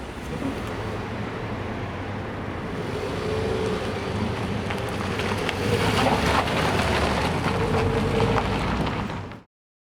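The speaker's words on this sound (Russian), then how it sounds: "Теперь выезжаем на дорогу, посмотрим, что он себе представляет в ходу." A brand-new BYD S6 with a 2.4 engine running on LPG pulls out onto the road, giving a steady broadband rumble of engine and road noise that builds gradually and cuts off abruptly at the end.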